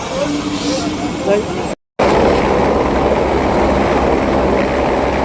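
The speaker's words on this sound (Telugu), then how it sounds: "మామూలుగా లేదు, హెలికాప్టర్. ఇప్పుడు నేను దాని మీద వెళ్ళబోతున్నాను." A helicopter runs at a helipad on the Kailash Mansarovar pilgrimage route in 2025, its loud, steady engine and rotor roar filling the scene close by after a brief break.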